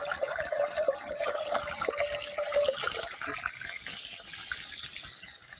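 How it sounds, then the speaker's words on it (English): Snow dropped into hot oil in a cast iron pan sizzles and splatters in a steady, close hiss that stays busy throughout and slowly settles toward the end, with no voices. "I just take a little bit of water, or in this case, with a little bit of snow. When it splatters like that, we're all ready to go."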